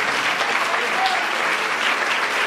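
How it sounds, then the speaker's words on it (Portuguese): A church congregation breaks into loud, continuous applause, a dense steady wash of many hands filling the room from start to finish. "E você dê uma salva de palmas ao Senhor Jesus."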